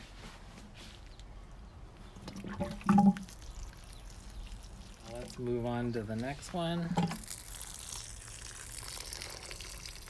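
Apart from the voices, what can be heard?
watering papaya plants from a container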